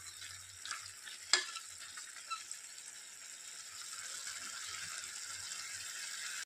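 Carrot halwa being stirred and sautéed in a pan gives a quiet, steady sizzle with soft scraping and one brief clink of a spoon against the pan, no voices.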